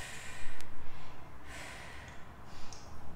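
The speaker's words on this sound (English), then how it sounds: "Breathing deep." Deep breathing during a legs and abs stretching workout, with heavy rhythmic inhales and exhales close to the microphone and breathy gusts over a steady background rumble.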